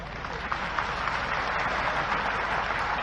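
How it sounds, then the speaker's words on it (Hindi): Sustained applause from a large audience at a political rally addressed by Madhya Pradesh chief minister Shivraj Singh about Amarkantak, a broad steady wash of clapping filling the whole stretch without a break. "ताली जरा कम बजी भाई इससे"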